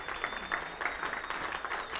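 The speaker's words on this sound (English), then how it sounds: "Everybody give Sonny a round of applause." An audience at a pastors' forum claps in a modest, steady round of applause, faint and somewhat distant, sustained throughout.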